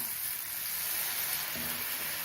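Spices sizzle gently and continuously in hot oil for a hibiscus-flower kara kuzhambu, a soft, even crackle close by with no voices.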